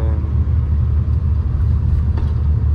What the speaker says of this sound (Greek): Τούτο είναι ένα Mitsubishi Galant, απλό 16 καρπουλατέρ.